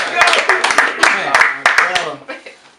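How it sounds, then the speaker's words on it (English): Audience clapping for a hip-hop artist being welcomed during an underground radio interview, a burst of sharp claps and whoops over several seconds with voices mixed in, tapering off at the end. "clap it up for Tory"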